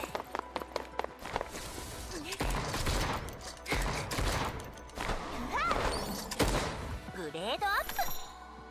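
Rapid bursts of semi-automatic shotgun fire ring out in the GFL2 video game, loud and close, layered with whooshing and chirping game effects and short vocal sounds.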